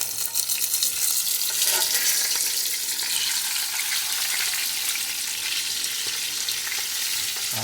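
Pompano fish pan-fried in hot oil makes a loud, dense, continuous sizzle and crackle close by, with no voices over it.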